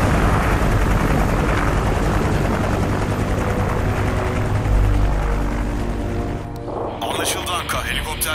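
A loud military helicopter in a Turkish war film drones and thuds steadily while people talk over it in Turkish; the rotor noise eases off near the end.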